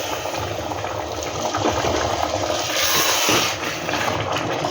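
Water poured into a cooking pot of chicken ghee rice mixed with masala, a steady close splashing and bubbling wash that runs through the whole stretch at moderate loudness with no talk over it.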